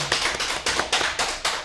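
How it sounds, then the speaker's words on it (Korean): Applause after a Buddhist monk's special lecture at a Haenam education briefing: a run of crisp, fairly evenly spaced claps, moderately loud and close, with no talking over them. "다시 한번 금강 스님께 박수 한번 좀 부탁드리도록 하겠습니다"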